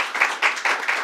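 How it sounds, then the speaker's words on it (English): Audience applause for Antonio Reynoso at a public announcement event, a short burst of clapping from a crowd, close and lively with a few pulsing swells. "So let's give him a round of applause."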